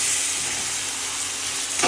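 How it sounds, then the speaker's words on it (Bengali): Lotia, Bombay duck, fish sautéing in a pan with oil, a loud steady broadband sizzle and hiss that fills the whole stretch, close and unbroken, with no voices. "মাছগুলো দিয়ে ভালো করে কষানো।"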